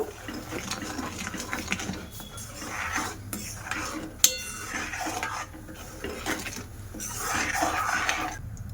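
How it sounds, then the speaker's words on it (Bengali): Sugar is stirred into mango panna, a green mango drink, in a pot, with light spoon clinks and scraping against the vessel and a sharp clank midway, fairly quiet. "ছ চামচ চিনি দিয়ে দিলাম, দিয়ে বেশ ভালো করে জাল করে নেব"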